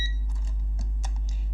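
A multimeter beeps while probing a capacitor on the board of an LG 55UK6950PLB television with no picture. A brief tone sounds at the very start, followed by faint clicks and small taps over a constant low hum.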